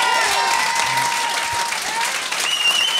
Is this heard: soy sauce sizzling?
no